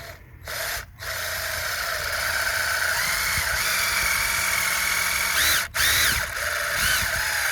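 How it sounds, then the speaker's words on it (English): Power drill boring into a maple tree for sap tapping: a steady whining motor held for several seconds, briefly stopping and restarting, close and loud with no talk. "So let's just drill here."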